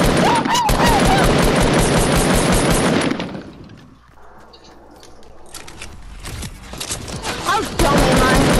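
Rapid bursts of automatic gunfire ring out in a Fortnite match, a dense loud volley that breaks off into a quieter lull before more shots and clatter return, with players talking over it.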